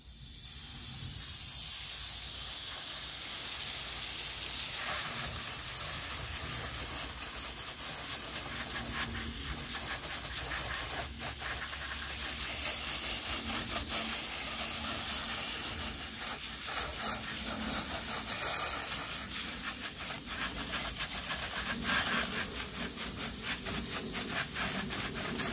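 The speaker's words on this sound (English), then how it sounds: "We're spraying the seams real good." A steady, continuous hiss of water spraying onto the seams of a hard plastic storage box, sustained for a long stretch with no talking.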